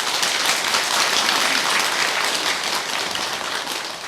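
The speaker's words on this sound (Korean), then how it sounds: "이런 법회를 주관하신 법무사 스님들과 주지스님께 박수 한번 보내드리죠." Audience applause at a Buddhist dharma service for the Baekjung ancestral prayer ceremony, a steady dense wash of many hands clapping that holds evenly throughout and tapers slightly toward the end, with no talk over it.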